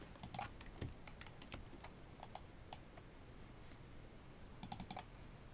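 Computer mouse clicks while working in a spreadsheet chart, a few faint, sparse clicks and taps in a quiet room, with a short cluster of clicks near the end.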